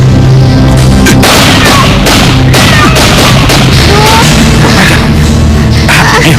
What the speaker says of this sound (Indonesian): Kalian mau orang akan datang sini karena mendengar tembakan kalian